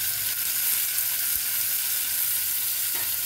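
Chopped tomatoes fry in a pan with green chilies, giving a loud, constant close-up sizzle with faint stirring knocks underneath.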